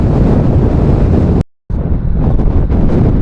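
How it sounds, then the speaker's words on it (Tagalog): Strong wind roars and buffets close to the microphone, cutting out to silence for a moment before gusting back in. "Uy, putik na hangin yan."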